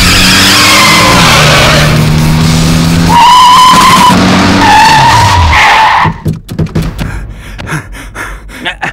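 A car speeds off with a loud revving engine and screeching tire skids rising in pitch, then cuts abruptly into quieter scattered knocks and thuds, with no talking over the engine.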